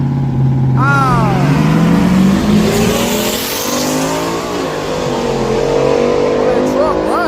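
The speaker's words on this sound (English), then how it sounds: "Damn, that truck running." A truck engine runs and revs hard, with rising and falling pitch sweeps in loud bursts, while people talk over it close by.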